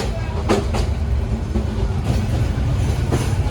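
Agnibina Express passenger train running between Dhaka and Jamalpur, a steady low rumble with faint periodic clacks, heard from inside the carriage.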